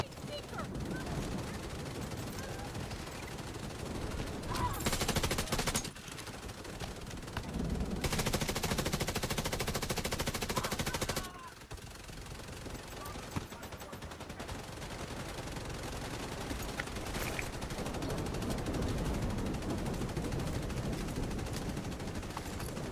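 Gunfire in The Division 2 during a Dark Zone fight: bursts of automatic fire and shots come in loud clusters with quieter gaps, heard alongside game sound.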